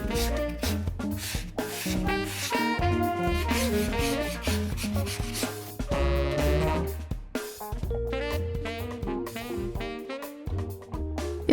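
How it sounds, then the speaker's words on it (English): Excess polyfiller sanded off a bedroom wall by hand, a steady, close, scratchy rubbing that continues in rhythmic strokes for several seconds, fairly loud and without speech. "So what I'm going to do now is just sand off the excess polyfiller"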